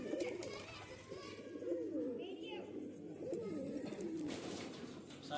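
Pigeons, among them an old black pied bird, coo in soft repeated rolling calls close by, with a voice speaking intermittently underneath.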